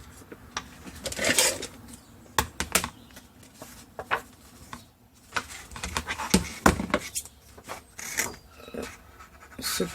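Paper is cut by hand for a vintage baby photo album, crisp irregular snips and rustles, close and fairly quiet, with pauses between cuts.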